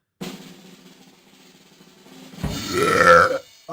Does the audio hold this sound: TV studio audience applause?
no